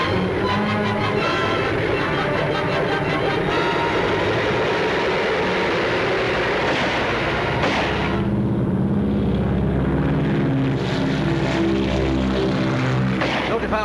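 A propeller airplane engine roars continuously and loud while the plane takes off in a 1942 World War II spy film, with voices talking faintly under the noise.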